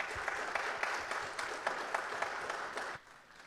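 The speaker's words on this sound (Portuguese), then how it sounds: "Os aplausos da plateia." A theatre audience claps loudly and steadily at a piano competition, the dense applause running evenly and then dropping off sharply near the end.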